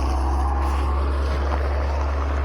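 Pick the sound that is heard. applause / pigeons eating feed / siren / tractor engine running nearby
tractor engine running nearby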